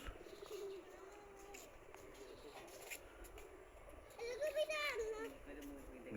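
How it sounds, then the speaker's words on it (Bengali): Pigeons of various kinds coo at a mini zoo in Savar, low soft cooing under a child's and adults' chatter, with a clearer burst of bird calls toward the end. "বিভিন্ন ধরনের কবুতর রয়েছে।"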